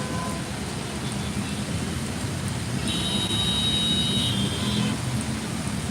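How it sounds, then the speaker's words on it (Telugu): Dense, steady downpour of heavy rain in Hyderabad hissing loudly and continuously, with a brief high tone rising above it midway. "మా పట్నంలో ఫుల్ వర్షం పడుతుంది"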